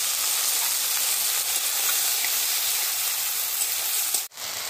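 Tomato and ground spice paste with a splash of water fries in a pan, giving a loud, steady, close sizzle that cuts out abruptly near the end.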